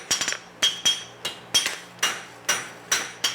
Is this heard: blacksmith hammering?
yes